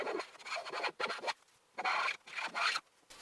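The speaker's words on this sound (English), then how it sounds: "I'm going to use a number 78 and hopefully just take away a little bit of the finish and keep it flat" A number 78 hand plane shaves old finish off a wooden shelf board in several raspy, scraping strokes with short pauses between them, close and fairly quiet.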